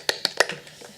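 A few hand claps of applause on a French television show, about three sharp, close claps followed by softer, scattered taps within a second.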